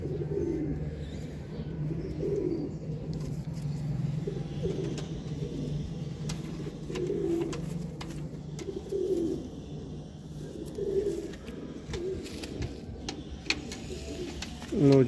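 Teddy pigeons on a Sialkot rooftop coo in repeated soft throaty bursts at a slow, even rhythm, close by over a low steady hum, with a few faint clicks and no talking.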